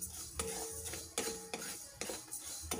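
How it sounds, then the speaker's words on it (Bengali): Coriander seeds dry-roast in a dry pan, stirred with a utensil that scrapes and clinks against the metal in several distinct strokes over a soft, steady rustle. "আমি শুকনো খোলায় এগুলো ভেজে নিচ্ছি"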